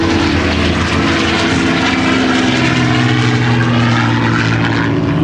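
Supermarine Spitfire propeller fighter flying aerobatics at the Slavnica air show, a loud continuous engine drone with a steady low propeller hum that shifts slightly in pitch as the plane maneuvers.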